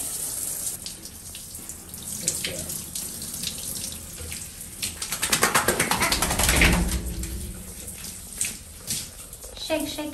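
Water runs steadily from a tap while a six-month-old German Shorthaired Pointer puppy is rinsed in a bath, a continuous close splashing hiss that swells in the middle, and a person speaks now and then.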